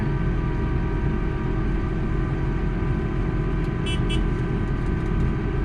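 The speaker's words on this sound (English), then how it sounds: "My neighbor just drove by." A car passing nearby, a steady broad engine and road rumble that holds level throughout, heard from a vehicle interior with a couple of faint high clicks.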